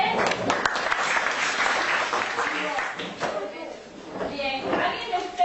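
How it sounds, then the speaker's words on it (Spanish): A classroom group breaks into a burst of applause, dense clapping that swells and then thins out over several seconds, with voices talking and calling out around it. "Bien, un aplauso para ustedes."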